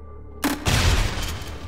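Grenade explosions in Garry's Mod: a sharp blast bursts in suddenly, then a second heavier boom rolls into a long, loud, rumbling decay, close and without talk.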